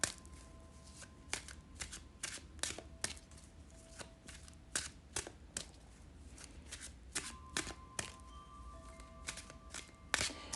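Tarot deck being shuffled by hand, with crisp, close riffles and soft card slaps repeating irregularly at a quiet level, no talking.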